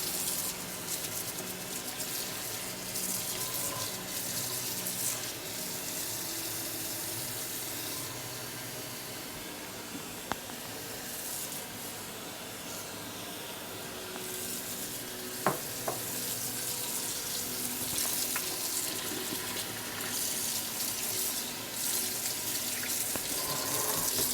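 Water runs continuously into a sink to rinse away suds while grooming brushes are cleaned, a steady close hiss and splash with a couple of sharp clinks partway through and no talk.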